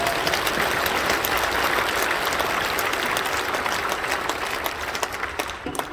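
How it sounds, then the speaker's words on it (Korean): A church congregation applauds during an Easter dawn worship service, a broad continuous wash of clapping that holds steady and then thins slightly near the end, with no speech over it. "박수합시다."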